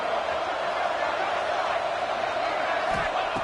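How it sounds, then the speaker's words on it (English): Stadium crowd at a Syracuse vs Memphis football game roaring in a steady, distant wash of noise to spur a red zone defensive stand, with no distinct voices standing out. "And here comes the noise. This crowd is trying to inspire this defense to make a big red zone stop."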